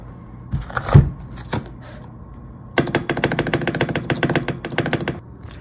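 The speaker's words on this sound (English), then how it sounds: "Now enjoy your super Thocky keyboard." Typing on a lubed, thocky mechanical keyboard set on a wooden desk, a few scattered taps followed by a steady run of close, crisp keystrokes that then stops, with no talking.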